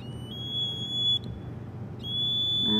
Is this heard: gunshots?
no